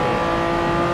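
Honda NSX-R at full throttle on the Nordschleife in Forza 7, its engine holding a loud, steady high-revving whine for about a second with no talk.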